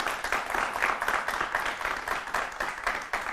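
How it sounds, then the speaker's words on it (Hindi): A studio audience claps steadily, a dense, even patter of many hands that fills the room without a break and carries no talk. "जरा तालियां बजाकर अपने होने का एहसास दिलाएं"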